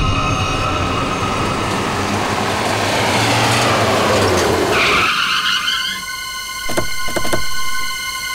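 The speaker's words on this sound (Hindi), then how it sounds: "ये तो वही जेजे सीरीज वाली गाड़ी है जिसमें योगेश भागा था।" A car in a TV crime drama, the JJ-series vehicle Yogesh fled in, rushes past with a loud roaring, skidding surge that cuts off abruptly, followed by brief bangs and rattles.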